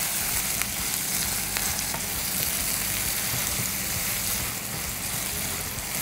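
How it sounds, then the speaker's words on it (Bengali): Boneless chicken wings fry in hot oil for a spicy dish, giving a loud, steady sizzle with crackling pops that runs throughout without any talk. "আর একটু ভাজা হবে লাল হওয়া পর্যন্ত এবং মাংসটা সেদ্ধ হওয়া পর্যন্ত চিকেনটাকে ভেজে নিতে হবে।"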